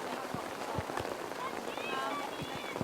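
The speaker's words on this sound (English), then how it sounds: "Rain and cold rain at that." Cold rain falls on an outdoor hockey pitch during a match, making a soft, steady patter. A few sharp knocks cut through it, and a voice talks over the rain.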